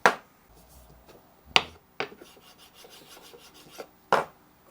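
Rubbing and burnishing a headstock template onto a routed wooden guitar neck, heard as a few sharp rasping strokes spaced apart with faint scraping between them, close and fairly quiet.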